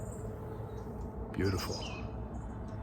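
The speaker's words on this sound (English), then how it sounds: "You can hear the birds chirping." Birds chirp faintly in the background over a steady outdoor hum, while a person speaks briefly.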